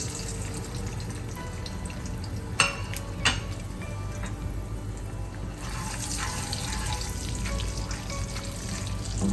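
Whole garam masala spices frying in hot oil for mutton yakhni pulao, a steady close sizzle with a couple of sharp utensil clinks against the pot, no talking.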